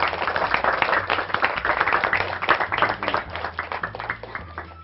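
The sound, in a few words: applause, class clapping hands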